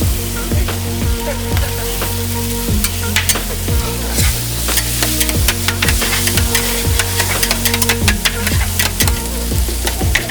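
Char Koay Kak being stir-fried at a street stall on Kimberley Street in George Town, with a loud steady sizzle and rhythmic metal spatula scrapes against the wok repeating throughout.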